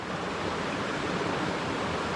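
A North Carolina creek flows with a steady, dense rushing wash of water, constant and fairly loud with no pauses.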